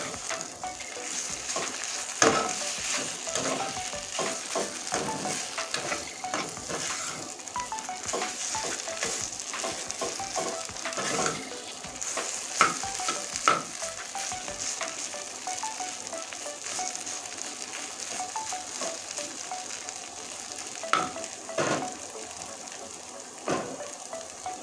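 Taro leaves frying in a pan, a steady close sizzle and crackle with frequent scraping and stirring strokes over the whole stretch, no talking.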